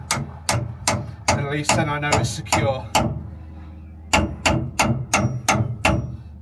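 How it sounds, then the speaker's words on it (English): Sharp metallic hammer taps on a boat's weed hatch lid being tightened, two bursts of about five to six evenly spaced strikes each, close and loud, with someone talking between them. "So people do say use a hammer just to tighten it up,"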